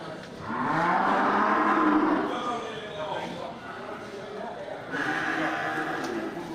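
Belted cattle at a livestock dealer's pen, lowing in long drawn-out moos, a loud one early and another near the end, amid a crowd of other animals and background chatter.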